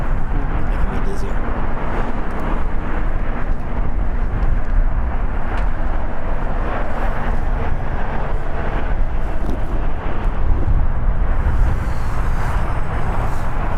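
Jet airliner taking off at LAX airport, a steady broad roar with heavy wind noise on the microphone, continuous and fairly loud throughout.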